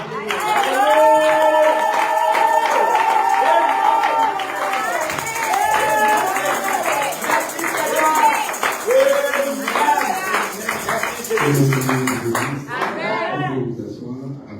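A church congregation at a pastor's service cheers and claps together, loud and sustained throughout, with voices and singing-like tones layered over the applause.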